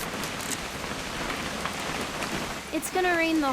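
Steady rain patters across a surface in the video game What Remains of Edith Finch, a soft continuous hiss, with a brief tonal chirp near the end.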